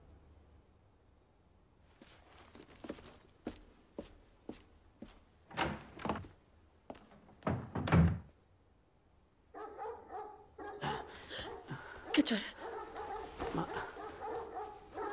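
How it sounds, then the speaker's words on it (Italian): Dogs bark nervously in a rapid, uneven series of sharp yaps that build up, then give way to higher whimpering yips; a voice briefly speaks over them. "Non ho mai sentito i cani così nervosi."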